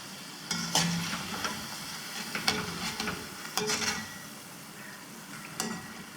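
Onion pakoda fry in hot oil with a steady, low sizzle. Occasional sharp clinks and scrapes of a utensil stirring in the pan punctuate it.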